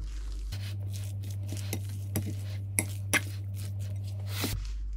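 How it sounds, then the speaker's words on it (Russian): Stollen dough stirred in a bowl with a utensil, giving faint, sparse clinks and scrapes at irregular intervals over a steady low hum, with no talking. "перемешиваем."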